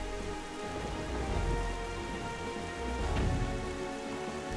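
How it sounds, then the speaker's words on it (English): Steady rain falls during stormy weather in The Legend of Zelda: The Wind Waker, a constant hiss of raindrops on surfaces with a low rumble underneath, heard alone and fairly quiet. "it's all cloudy and rainy and miserable and stuff like that"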